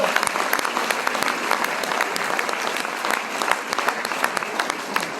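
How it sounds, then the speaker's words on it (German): An audience at a charity kids festival in Gommersheim gives loud, continuous applause for first responders, a thick, even wash of many hands clapping throughout. "Und da auch ein ganz, ganz dicker Applaus"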